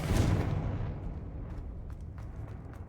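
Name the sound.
Confringo explosion spell in the video game Hogwarts Legacy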